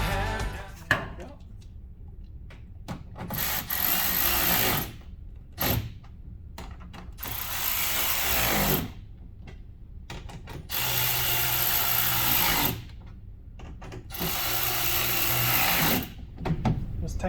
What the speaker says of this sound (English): Just tightening that fully, locking it in place.